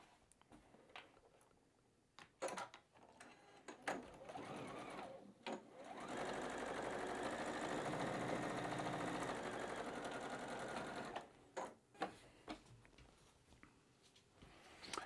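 A sewing machine stitches a batik quilt block: scattered clicks and handling taps, then a sustained close mechanical hum for several seconds before more intermittent clicks, with no voices.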